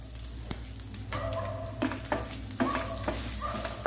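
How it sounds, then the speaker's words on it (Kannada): Mustard seeds spluttering and popping in hot oil, tempered for rasam: a steady close sizzle broken by sharp irregular crackles and pops, with a louder burst of popping in the second half and no voices. "ಎಲ್ಲ ಸಾಸಿವೆ ಎಲ್ಲ ಸಿಡಿಲಿಕ್ಕೆ ಶುರು ಆಯಿತು"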